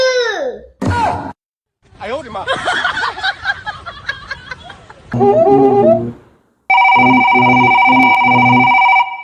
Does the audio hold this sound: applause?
no